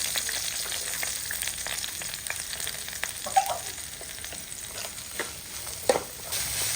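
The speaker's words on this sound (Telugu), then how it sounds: "అప్పుడు పోపు పెట్టుకున్నాను" Tempering spices for a bottle gourd yogurt chutney sizzle in hot oil: a steady, close frying hiss with scattered small crackles and pops throughout.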